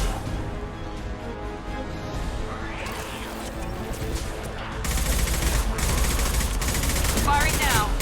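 Gunfire in the Mass Effect 2 video game: rapid, loud rattling bursts take over after about five seconds, following a quieter stretch of ambient noise and scattered effects, with voices speaking amid the shooting.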